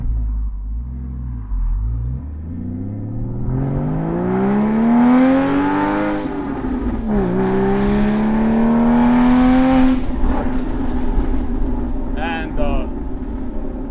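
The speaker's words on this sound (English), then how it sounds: "the sheer exhaust note, it's toxic" A car engine with new high-flow 200-cell headers, in sport mode, revs up through the gears, its exhaust note climbing in pitch, dropping briefly at a shift, then rising again loud and close.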